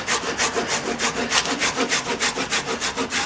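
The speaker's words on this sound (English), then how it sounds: "Must be some sort of grain in the hide, because it's really hard to scrape this section down." Scraper rasping rhythmically across thick leather hide stretched for a wooden boat, steady back-and-forth strokes about four per second, close and fairly loud, with no voices.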